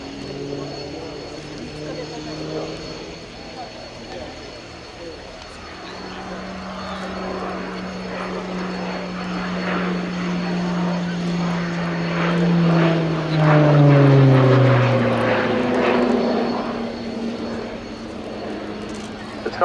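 An RAF Tucano T1 turboprop trainer flies a hard, high-G turn at a Royal Navy air day, its propeller drone swelling and dropping in pitch as it passes, while an announcer talks over the aircraft noise.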